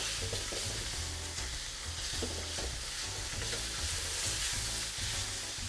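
Meat frying and being stirred in a pan for homemade Chinese fried rice, a steady sizzle with repeated scraping stir strokes throughout, close and fairly loud with no talking.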